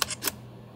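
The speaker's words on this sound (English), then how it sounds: "as long as I held the shutter button down, it kept taking shots" Sony A5000 camera firing a rapid burst of three shutter clicks in continuous bracketing mode, crisp and close, then quiet.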